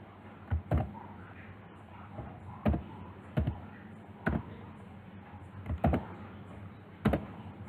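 HTML is typed on a computer keyboard with sparse, irregular keystrokes, some single and some in quick pairs, fairly quiet and close in an otherwise still room.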